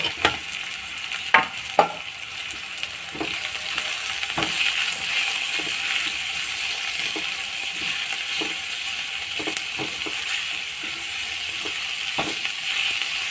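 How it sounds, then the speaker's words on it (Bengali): Sliced onions frying in oil with salt and turmeric, a loud constant hiss and sizzle close by with occasional sharp taps and scrapes of the stirring spoon, no voices. "পেঁয়াজটা ভাজা হয়ে গেল এবার পেঁয়াজটা তুলে নিলাম"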